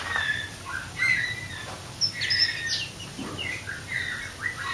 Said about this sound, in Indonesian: Om Rio sendiri ini kan banyak banget nih murainya nih